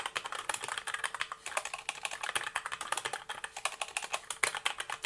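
Rapid, continuous typing on a computer keyboard while building a wedding timeline, a dense flurry of crisp key taps heard up close with no talk.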